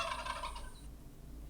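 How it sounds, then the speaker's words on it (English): A turkey lets out a short, rapid gobble, a bubbling burst lasting under a second, followed by quiet low background noise. "Turkey,"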